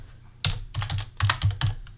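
A short burst of code being typed on a computer keyboard: about a dozen crisp, close key clicks in an uneven rhythm, with a louder cluster toward the end.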